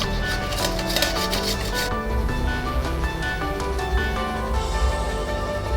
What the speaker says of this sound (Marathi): गाजर आता आपण असं मस्त मस्तपैकी सगळे किसून घेऊया